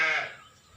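One sheep at a Telangana sheep farm gives a single close, wavering bleat that fades away within half a second, followed by quiet.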